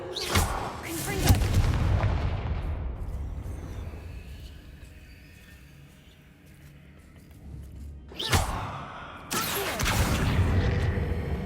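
A Confringo blasting spell explodes in Hogwarts Legacy on PS5, two loud booming blasts with rumbling decay, the second one arriving after a quieter stretch.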